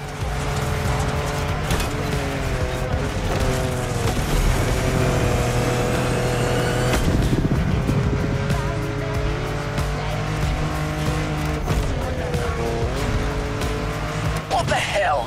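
Car engine roaring through a rough off-road run in the racing game The Crew Motorfest, steady loud drone with shifting revs and tire squeals, someone talking over it throughout.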